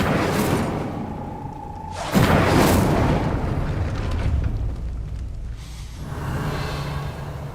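A fire spell cast in the Hogwarts Legacy video game: a loud whooshing burst of flame erupts after a short tone, then a sustained roaring crackle fades away, and softer magical rumbling follows.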